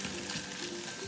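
Eggs and mung bean sprouts stir-fry in a hot pan for stir-fried Shin Ramen, giving a steady, close sizzle with soft stirring scrapes throughout.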